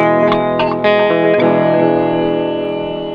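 Electric guitar run through a Pedaltank Time Capsule 2 delay pedal, with the repeats set loud around noon: sustained distorted chords with plucked attacks, trailed by a dense wash of echoes that slowly decays.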